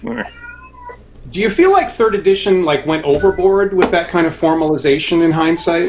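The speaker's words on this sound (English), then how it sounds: "I'm sorry if you can hear my cat howling in the background." A cat meows and howls in a home, first with a few thin, high calls alone, then under steady nearby conversation, its cries rising above the talking again and again.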